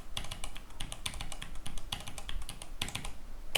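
Computer keyboard keys tapped in quick, uneven bursts while entering a Windows route command, close and clear with no talking.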